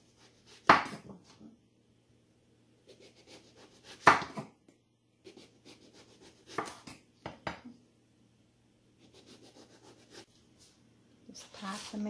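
A knife chops food on a cutting board while produce is prepared for canning and freezing, a few sharp, separate knocks spaced several seconds apart, with softer clatter and handling noise in between.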